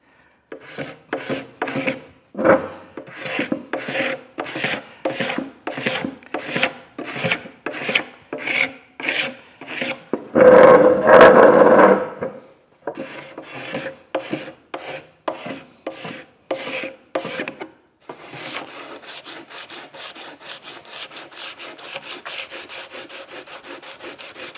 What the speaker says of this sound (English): and then give it a quick sanding